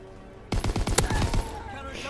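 Rapid bursts of automatic gunfire in a multiplayer shooter game, a loud cluster of shots lasting about a second, then a steadier background of game noise.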